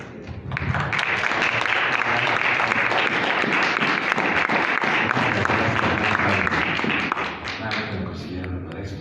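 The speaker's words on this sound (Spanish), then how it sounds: "recibamos con un caluroso aplauso" An audience in a hall breaks into warm applause for a speaker coming on stage, a dense sustained wash of many hands clapping that carries steadily for several seconds before easing slightly at the end.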